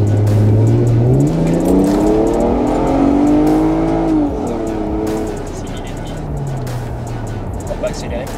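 A Toyota Mark II Blit wagon's engine accelerates hard, its revving pitch climbing steadily then dropping with a gear change, loud and close from inside the car, with people talking over it.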